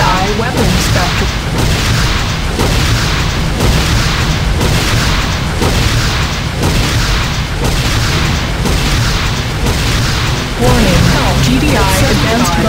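In the video game Renegade, the GDI weapons factory blows up amid continuous heavy booming and rumbling battle noise, loud and dense throughout, with a synthetic voice making announcements over it.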